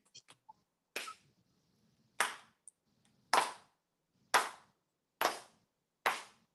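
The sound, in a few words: slow clap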